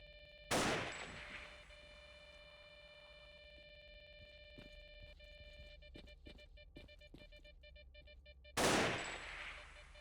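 Gunfire in the video game Fate of the Zone: two loud bursts open and close the stretch, with a quick rattle of sharper shots in between over a steady electronic hum.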